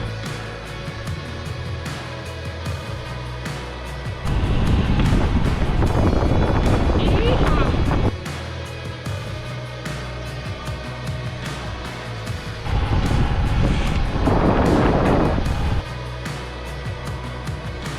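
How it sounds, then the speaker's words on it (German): Gusty wind on the island of Sylt buffets the microphone in two loud bursts, with a steady roaring rumble between them. "ganz schön windig hier"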